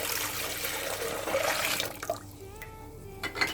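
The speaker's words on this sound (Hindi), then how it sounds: "अब आप ठंडा बर्फ़ वाला पानी लेंगे और इसके अंदर ऊपर से डालेंगे ताकि इसमें उछाल आए।" Ice-cold water is poured from above into a pot of boiling Kashmiri pink tea, with a splashing, bubbling rush at first that quiets into a softer, faint trickle toward the end.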